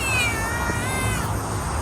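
A cat meows at an abandoned bungalow estate in Templer Hills, Rawang: a close, loud, drawn-out cry that wavers in pitch, set over steady background noise.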